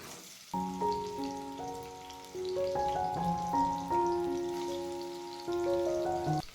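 Potato slices cut like French fries frying in oil over a medium flame, a soft steady sizzle beneath a louder background melody, with no talking.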